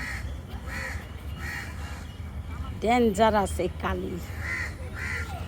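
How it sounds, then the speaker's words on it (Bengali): A crow caws repeatedly nearby in harsh, spaced calls while a person talks over part of the sequence. "আল্লাহ কাকের সাথে পারবা না"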